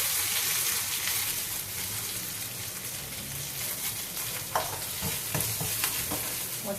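Curry leaves fry and sizzle in a pan with hot oil and mustard seeds, heard as a continuous, fairly quiet hiss with occasional small pops and crackles.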